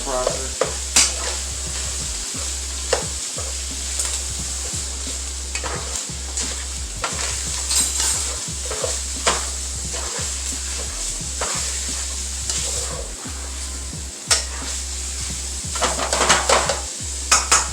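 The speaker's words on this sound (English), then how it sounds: "Start the frying process." Ground beef and noodles sizzle and fry in a pan while a utensil stirs and scrapes steadily against the bottom, with clinks of metal on cookware throughout and no talking.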